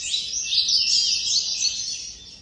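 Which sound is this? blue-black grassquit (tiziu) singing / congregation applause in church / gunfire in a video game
blue-black grassquit (tiziu) singing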